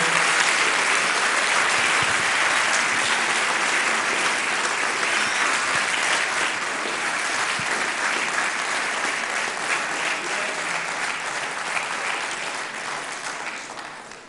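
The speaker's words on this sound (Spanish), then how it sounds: "¿Cuánto le dan un aplauso a la luz verdadera que ha venido?" Sustained applause from a large crowd, dense and steady, slowly thinning toward the end.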